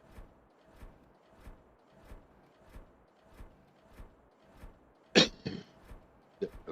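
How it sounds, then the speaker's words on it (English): A single loud, harsh cough bursts out near the microphone after several seconds of quiet, rhythmic soft thumps, followed by a shorter second cough near the end. "Sorry for coughing in your ear."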